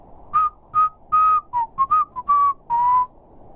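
A man whistles a short melodic phrase of clear, sustained notes and quick slides, close and loud, with brief pauses between notes and no talking.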